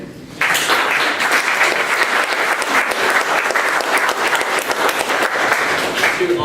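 Audience applause for two presenters at a 1 Million Cups startup pitch event: dense, steady clapping from a sizable room begins abruptly after a brief quiet moment and continues evenly throughout at strong, close volume.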